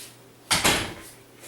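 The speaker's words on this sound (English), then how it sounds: "Let me go shut the playroom door." A playroom door is shut with a quick double thud, close and fairly loud, in an otherwise quiet room.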